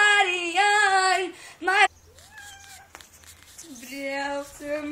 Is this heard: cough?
no